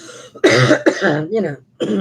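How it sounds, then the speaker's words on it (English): A person with emphysema and COPD lets out a few short, dry, rasping coughs and throat-clearing bursts in quick succession, close and fairly loud, with brief silent gaps between them. "That's an emphysema cough. That's a COPD cough."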